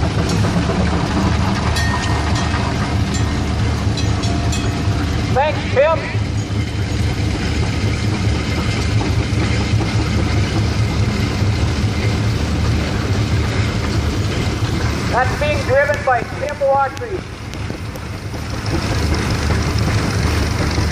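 A vintage steam tractor engine runs steadily through a parade, its low continuous chugging rumble loud and close throughout, with brief voices talking over it now and then.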